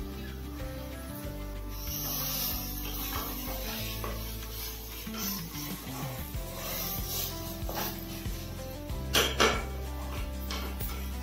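Mint rice gets stirred in a covered pan, with soft scraping and clinking of a utensil against metal, intermittent and fairly quiet, plus a few sharper knocks near the end over faint background music.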